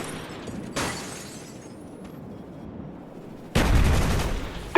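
Gunfire from a first-person shooter game: a sharp burst of shots near the start, then a louder, denser volley toward the end over a steady background rumble, with no voices.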